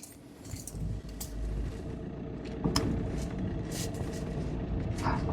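Interior road noise from a 2014 Volkswagen Polo with a 1.5 engine on a test drive through farmland, a steady low rumble with faint rattles and light knocks throughout.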